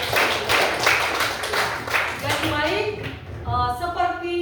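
Children in a classroom clap hands together in a quick, rhythmic burst over the first half, then the clapping fades as a voice begins speaking.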